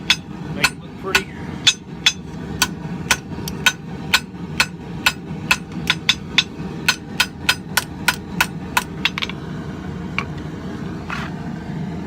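A blacksmith hammers an old file into an herb chopper, ringing strikes landing in a steady rhythm about twice a second, close and distinct over a low background hum, then slowing and stopping.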